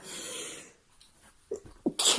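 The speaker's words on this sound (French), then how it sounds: "Et mon éternuement." A short sneeze bursts out near the end after a stretch of quiet breathing and faint rustling, close and fairly loud.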